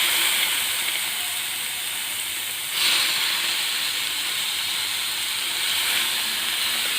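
Beef liver dropped into a hot pan of masala for a Kerala-style liver fry, giving a steady bright hiss that swells for a moment as the pieces hit the oil, then settles into a constant sizzle.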